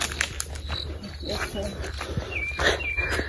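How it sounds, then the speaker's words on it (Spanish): Cicadas drone steadily in a cornfield, a dense high buzzing chorus that runs through the whole stretch, with faint bird chirps and a voice nearby at times. "pero oiga cómo se... Las chicharras,"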